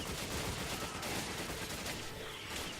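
Sniper rifle fire in the video game Resident Evil 5 during a boss fight, dense loud gunfire and blasts filling the whole stretch with no gaps, overlapping game effects and no talking.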